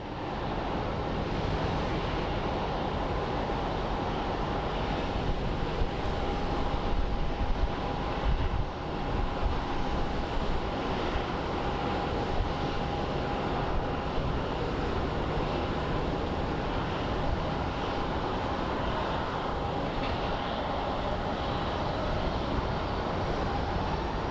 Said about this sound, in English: so we have a Southwest pulling into the gate.